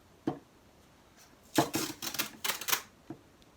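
Masking tape being peeled up from its end at a table, heard as a short tap, then a burst of crackly ripping pulls around the middle and a final small snap, close and fairly quiet with no talking.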